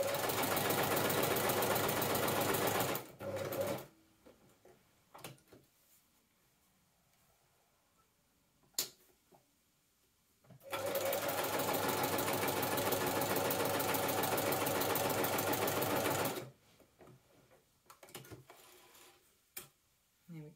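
Sewing machine stitching stretch fabric for dragon cosplay wings, two long runs of fast, even mechanical whirring separated by quiet pauses filled with faint handling clicks while the needle stops and the work is turned.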